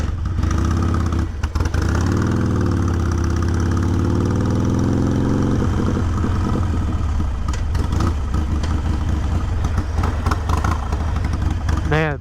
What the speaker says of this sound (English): the bike's not running good at all